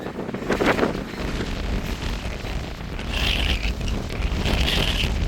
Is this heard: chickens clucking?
no